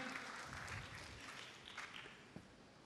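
An Indonesian event audience claps for an artist about to begin a live painting session, faint steady applause heard from a distance in a roomy space.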